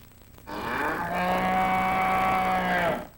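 A cow lets out one long, loud moo lasting nearly three seconds, steady and drawn out before trailing off.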